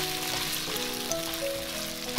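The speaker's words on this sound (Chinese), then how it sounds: "就把红葱头倒进来，改大火翻炒一下。" Shallots stir-fried over high heat with golden pan-fried chicken wings, a soft continuous sizzle with light scraping and clatter throughout, no talk.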